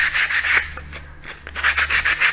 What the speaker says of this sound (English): So notice how I'm rocking it round the edge so I get that nice smooth finish